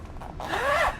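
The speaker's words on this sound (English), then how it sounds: "That was the loudest zipper ever." A zipper is pulled in one quick, loud zip lasting about a second, close to the microphone.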